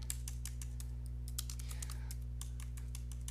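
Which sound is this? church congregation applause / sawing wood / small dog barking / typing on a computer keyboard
typing on a computer keyboard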